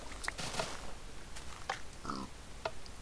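Several short pig grunts and oinks from Minecraft in quick, uneven bursts, moderately loud with a faint background.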